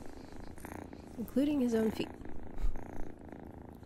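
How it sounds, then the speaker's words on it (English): A kitten's soft, steady rumbling purr runs faintly underneath a person talking nearby. "I love how well you can hear him purring here."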